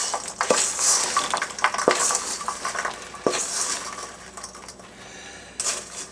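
Spoonfuls of blueberry fruit mixture go into a par-baked pie crust in a kitchen, giving soft wet scrapes, stirring sounds and occasional sharp clinks of a utensil against the dish, close and fairly quiet.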